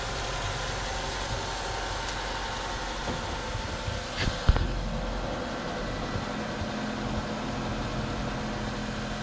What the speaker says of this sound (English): Engine still running so smoothly.